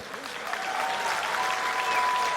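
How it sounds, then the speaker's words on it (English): After a British featherweight title boxing bout, the arena crowd applauds the winner, a broad steady wash of clapping that swells slightly and holds, with a faint tone running underneath. "Ladies and gentlemen, please, a massive round of applause for a magnificent fighter"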